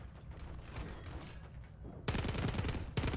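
Rapid automatic gunfire in a video game, a weapon kicking with heavy recoil, cutting in loud after a stretch of quieter game noise and rattling off in two dense bursts with a brief pause between.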